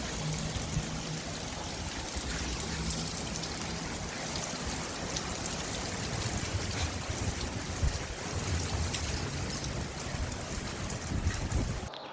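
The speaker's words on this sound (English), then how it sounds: "Lots of rain." Steady broadband hiss of rain, constant and moderately loud, with gusty wind rumbling underneath and no voices.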